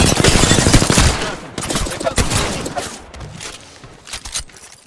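Apex Legends gunfire, with loud rapid bursts of shots broken by short pauses and then a few scattered single shots toward the end.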